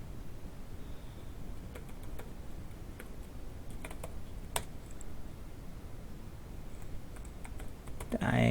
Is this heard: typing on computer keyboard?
yes